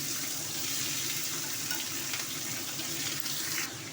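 Vegetables frying in hot oil with spices, giving a continuous, even sizzling hiss at moderate distance that holds steady for a few seconds, with no voices.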